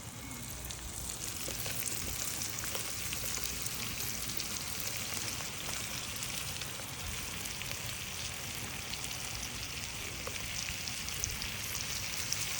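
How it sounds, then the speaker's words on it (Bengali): Chopped bitter gourd with coconut fries in a pan, giving a steady, even hiss and sizzle throughout, close and moderately loud, with no talking. "এবার একটু ভালোভাবে ভেজে নেব"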